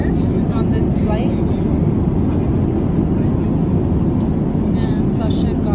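Airplane cabin at cruise during meal service on a passenger flight: a loud, steady broadband drone fills the whole stretch without letup, with faint voices murmuring beneath it.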